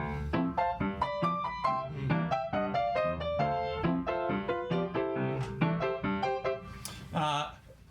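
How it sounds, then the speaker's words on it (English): Solo piano plays a ragtime blues passage in a trad jazz style, with bouncy, evenly spaced chords and a lively melody, close and clear with no voices. "which has a kind of ragtime piano sound to it"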